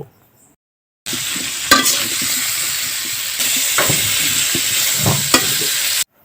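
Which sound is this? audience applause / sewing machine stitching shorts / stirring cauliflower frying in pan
stirring cauliflower frying in pan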